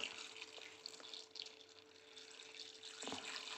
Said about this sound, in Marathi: आता मी ह्याच्यात परत पाणी टाकून घेतो